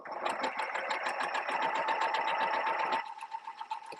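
A Janome M6 sewing machine stitches fabric with a fast, even mechanical clatter close by, then stops abruptly, leaving a softer hum.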